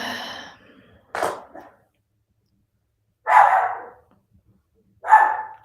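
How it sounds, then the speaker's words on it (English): A dog barking indoors, a few short muffled woofs and sighing vocalizations spaced a couple of seconds apart, moderately loud and alone against silence. "Some background chants from my dog."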